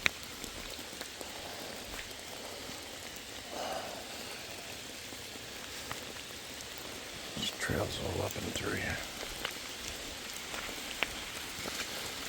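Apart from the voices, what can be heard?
steady heavy rain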